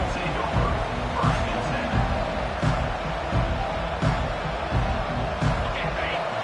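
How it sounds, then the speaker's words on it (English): A stadium crowd in the video game NCAA 25 roars and cheers continuously in the background during a college football kick return, swelling in waves, with muffled thuds and bursts of noise throughout. "Listen to the crowd energy here in the early going."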